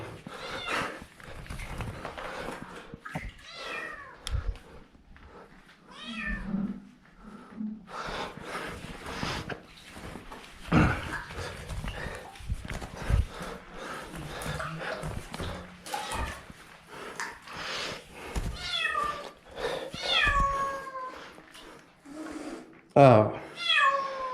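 A cat meows several times, short rising and falling cries scattered among continuous talking voices, fairly close and moderately loud.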